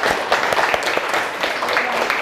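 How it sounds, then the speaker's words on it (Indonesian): Classroom applause from pupils during a school lesson, a short burst of close, loud, unevenly timed claps from a small group. "kasih tepuk tangan untuk Nada, luar biasa."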